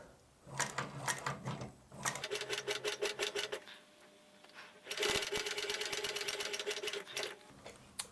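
A sewing machine back stitching a leather shoe upper runs in short bursts of rapid, even needle clatter separated by brief pauses, close and fairly quiet, with no talking over it.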